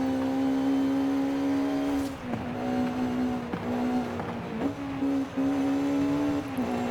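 A Honda VTEC engine screams at high revs in Forza Horizon 5, a steady loud tone that dips briefly at several gear shifts and then climbs again, heard alone with no talking.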